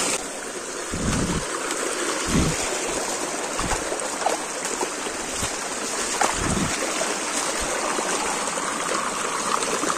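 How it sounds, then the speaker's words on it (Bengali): Fast water rushing down a stream below the Shilbunia waterfall in Alikadam, Bandarban, a steady broadband roar close by, broken by a few dull low knocks or footsteps, with no talking. "দেখেন পানির গতি, তার মানে ঝর্ণায় প্রচুর পানি বইতেছে এখন।"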